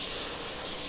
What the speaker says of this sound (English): Cylinder cocks.